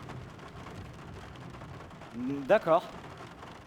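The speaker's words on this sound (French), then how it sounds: "il pleut des cordes" Steady rain hisses throughout as a dense wash of noise, while a voice briefly speaks near the end.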